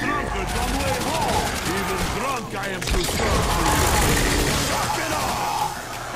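Dense video game gunfire from Call of Duty: World at War Zombies on the Der Riese map, rapid loud bursts and sustained automatic fire with chaotic battle noise, while players talk over it.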